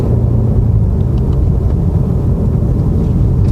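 A BMW M5 Competition on a slow country road, heard from inside as a steady, loud low engine drone and road rumble under acceleration, with no talking.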